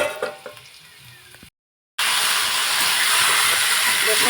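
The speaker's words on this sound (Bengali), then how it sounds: "রসুন শুকনো লঙ্কা ভাজা হয়ে গেছে" Garlic and dried red chillies sizzle in hot oil as a tempering, a steady hiss that grows loud and continuous after a brief gap, with faint clatter earlier.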